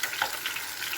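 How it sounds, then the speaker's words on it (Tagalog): Hot oil spattering and crackling around frying maruya, Filipino banana fritters, a brief steady sizzle with a few sharp pops close by. "Ay, tumalsik yung mantika."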